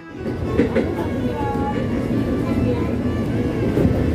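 Steady low rumble of a KRL commuter train near Cakung station, Jakarta, with faint rhythmic clatter and a brief tonal squeal, continuous throughout.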